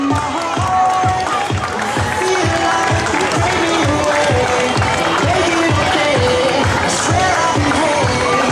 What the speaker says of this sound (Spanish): Un fortísimo aplauso a todos los participantes.